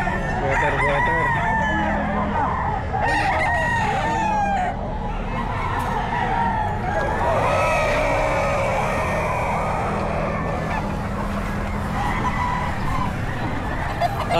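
A Sweater gamefowl rooster crowing amid other roosters and clucking fowl at a busy pet market, repeated crows over a loud, constant background of birds and traffic.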